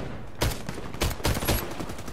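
A Sig Sauer 226 pistol fires in a video game: four or five sharp, punchy shots in quick irregular succession, loud and close, with no voices over them.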